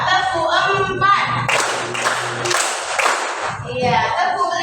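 Hand clapping in a counting clap game, heard as a run of sharp, close claps in the middle, with voices speaking before and after.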